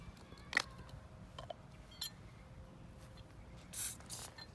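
Lubricant is sprayed onto the threads of a fire hydrant nozzle and cap in a few short, quiet hissing bursts separated by pauses, with faint handling noises in between and no talking.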